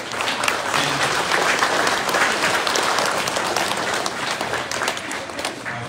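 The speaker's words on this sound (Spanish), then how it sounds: "Fuerte aplauso a Evelyn." Sustained applause from a church congregation during a Catholic Mass for All Saints' Day in Mexico, dense and steady clapping filling the space for the whole stretch without talk over it.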